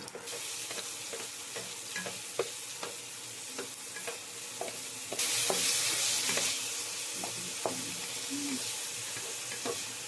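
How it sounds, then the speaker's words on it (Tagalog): Okra sautéing with garlic in a home pan, a steady sizzle with repeated scraping stirs and clinks, louder bursts of frying partway through, with no talking. "Gigisa mo na siya ng bawang."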